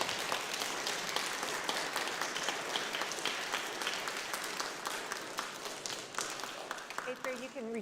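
An audience at school awards for physical fitness gives a sustained round of dense applause that fills the room steadily, tapering slightly at the end as a voice begins to speak.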